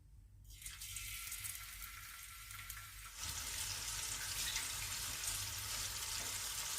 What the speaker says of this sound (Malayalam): ബാക്കിയുള്ള ഫിഷും കൂടി ഞാൻ ഫ്രൈ ചെയ്യാൻ വെച്ചിരിക്കുകയാണ്